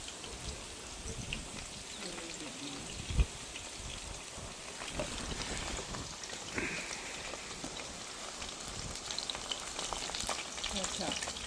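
Lumpia egg rolls sizzle in hot oil, a dense, steady crackle and hiss with scattered pops throughout, fairly quiet and close, with no clear talking.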